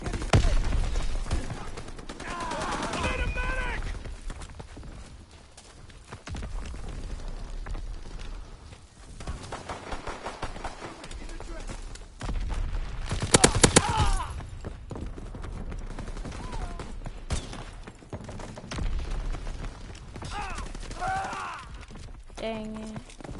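Suppressed gunfire in a video game, heard as soft, muffled shots scattered among game effects, with a sharper cluster of quick shots partway through and a voice speaking at times.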